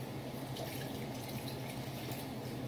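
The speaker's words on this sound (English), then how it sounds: "we're going to be filling this with water" Water from a can pours steadily into a cooking pot for an Iraqi marag dish, producing a continuous splashing rush at close range with no break.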